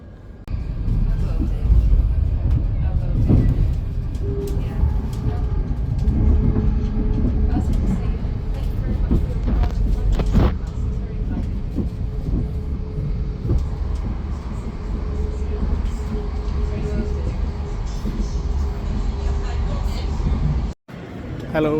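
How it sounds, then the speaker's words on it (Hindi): Inside a direct train from Hitchin to London, a steady low rumble and rattle of the carriage continue throughout, and someone talks over the noise. "ये हमारी ट्रेन है जो डायरेक्ट हिचन से लंदन जाएगी।"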